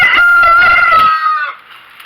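A rooster crows loudly and close by, a single drawn-out call that tapers off, with faint clucking underneath at the start.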